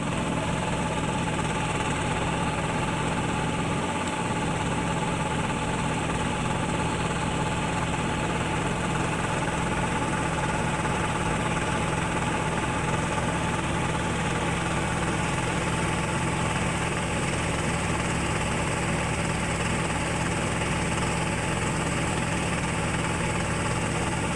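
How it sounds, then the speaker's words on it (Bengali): A rice harvesting machine runs continuously while paddy pours out of it, a loud, steady engine drone with a throbbing mechanical rumble and whirring, close by and unbroken, with no talk over it. "এই যে দেখতে পাচ্ছেন ধান কাটার পর কিভাবে ধানগুলো আবার এই যে মেশিন থেকে বের হচ্ছে, দেখেন।"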